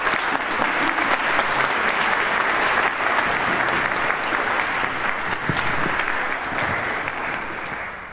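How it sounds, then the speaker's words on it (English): Loud, dense audience applause at an outdoor-style Tuba Christmas holiday concert of tubas and sousaphones, sustained steadily for several seconds with a slight taper at the end. "let's give Karen a round of applause"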